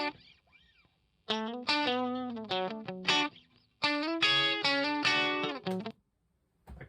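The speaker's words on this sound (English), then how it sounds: "So what we've got here is the other guitar part." Distorted electric guitar part with chorus-like effects, recorded with close and room mics, playing two loud riffs separated by a pause and ending abruptly.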